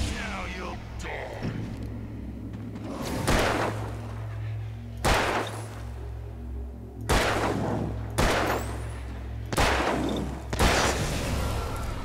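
Revolver shots ring out in the video game Alan Wake, about six loud, booming reports spaced a second or two apart over a low rumbling backdrop, with some voice in between.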